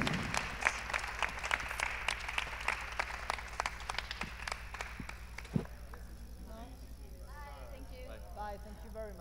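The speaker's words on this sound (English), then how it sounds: "Round of applause, please, for the first" Festival audience applauds the first guest at a café-style feedback session, a short burst of scattered claps over a low steady hum that fades out as a voice resumes talking.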